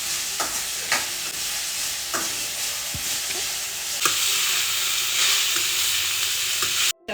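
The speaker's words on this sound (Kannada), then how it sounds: "ಈರುಳ್ಳಿ ಫ್ರೈ ಆದ ತಕ್ಷಣ ಬೀನ್ಸು ಮತ್ತು ಕ್ಯಾರೆಟ್ ಹಾಕೊಂಡಿದ್ದೀನಿ ಒಂದೆರಡು ನಿಮಿಷ ಇದನ್ನು ಫ್ರೈ ಮಾಡ್ಬಿಟ್ಟು" Onion, beans and carrot stir-frying in a pan for a vegetable filling, an even sizzle under several sharp spatula scrapes and taps spaced a second or so apart, ending with a brief clatter and no talk.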